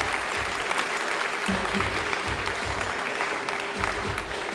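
A hall audience claps at a Thane traffic police women's day award ceremony honouring women constables. The applause is continuous, thick and even in level, with a faint low murmur beneath the clapping.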